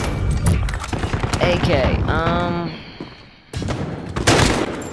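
Bursts of AK assault rifle fire in a shooter video game, rapid cracks in clusters with a short lull before more shots, a person speaking briefly over the gunfire.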